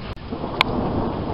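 Thunder rumbles through a heavy rainstorm, a low steady roll under constant rain hitting close by, with one brief sharp crack partway through.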